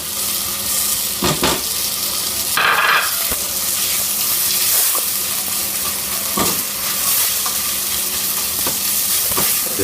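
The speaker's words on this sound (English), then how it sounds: "Then add my peas, frozen peas in there, the same quantity as your rice." Frozen peas and rice fry in ghee with a steady, close sizzle throughout, while a spoon stirs and scrapes the pan several times in brief bursts.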